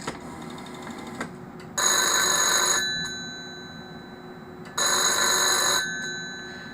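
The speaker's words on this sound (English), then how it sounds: "If I do it again, you will hear the bell." Two loud bursts of an electromechanical telephone bell ringing in a workshop shed, each about a second long with a pause between, close and alone with no talk.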